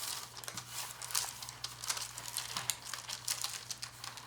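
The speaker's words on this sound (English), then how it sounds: "rub it all over the parchment paper at the" Olive oil being rubbed by hand over parchment paper lining a cookie sheet, a soft papery crinkling and swishing that comes in repeated close strokes over a low steady hum.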